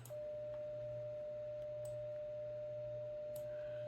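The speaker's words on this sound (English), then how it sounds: "sine wave" A steady, pure sine wave tone from a FabGL sound demo on a hobby electronics board holds unbroken and faint over a low electrical hum, with a few soft clicks.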